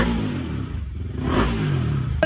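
A Yamaha NMAX motor scooter with a 63mm TSMP big-bore block and TSMP throttle body revs nearby, the engine rising and falling in a short, loud burst with some mechanical clatter.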